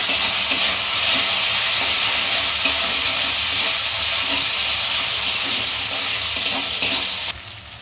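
Garlic paste fries in a pan with a loud, continuous hissing sizzle and occasional stirring scrapes, until the sound drops off abruptly near the end.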